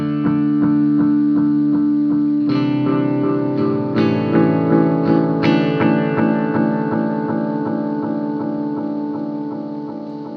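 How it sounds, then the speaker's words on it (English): An electric guitar chord repeats through an Eno 86 bucket brigade delay pedal in perpetual feedback mode, echoes stacking in rapid rhythmic pulses as new notes enter, then slowly decaying into a sustained wash. "I have the Eno 86 Bucker Brigade voiced delay on"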